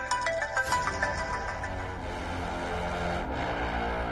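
A phone's ringtone plays loudly and alone, a bright melodic chime that opens with a quick run of notes and then holds a sustained, ringing tone.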